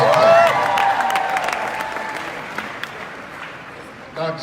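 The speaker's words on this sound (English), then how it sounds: "Give them all a tremendous round of applause." An audience at a motivational speaking event breaks into loud applause and cheering. It is strongest at the start and slowly thins, while a voice or music tone rides over it early on.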